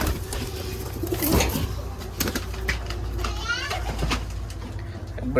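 Giribaj pigeons coo softly in a sunny winter loft, with low repeated coos set against a busy backdrop of children's voices and people chatting nearby.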